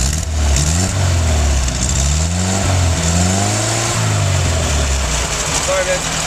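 A 1977 Volkswagen Westfalia Deluxe van engine revs loudly up close, its pitch climbing and dropping several times over a steady running rumble.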